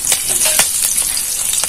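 Whole spices sizzling in hot oil for tempering (fenugreek seeds, dried red chilli, bay leaf and green chilli), a loud, close, steady crackling fry with small popping spurts and no talk.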